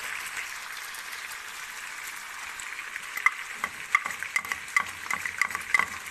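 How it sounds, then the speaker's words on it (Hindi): Chicken frying in a pan makes a continuous soft sizzle, with spoon scrapes and taps against the pan that grow busier toward the end, close up and without talk. "ये हमारा चिकन अच्छे से रोस्ट हो चुका है।"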